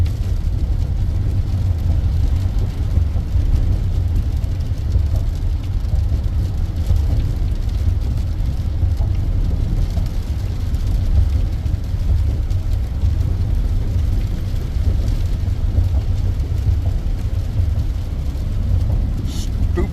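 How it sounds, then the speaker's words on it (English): Heavy city traffic heard from inside a car driving toward downtown San Francisco: a loud, continuous low road-and-engine rumble with broadband hiss and no clear breaks. "Stupid amounts of traffic."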